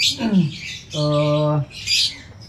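A caged songbird gives a close, harsh squawk, then a sustained buzzy note and another rough call in a short burst.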